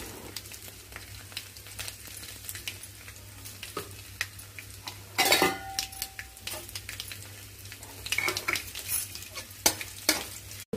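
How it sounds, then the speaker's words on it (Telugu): Chopped onion pieces sizzle in hot oil in a pan over a tempering of seasonings, with a spoon stirring and scraping in irregular bursts, one sharp clatter midway, and a faint steady hum underneath. "పోపు వేగిన తర్వాత ఉల్లిపాయ ముక్కలు వేసుకొని వేయించేసుకుందాము"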